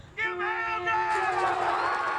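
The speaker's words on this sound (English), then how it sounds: "At which time the boisterous crowd chimed in" A boisterous crowd at a Trion versus Armuchee high school football game cheers and sings along after the national anthem, a loud sustained roar with voices in it that swells in the second half.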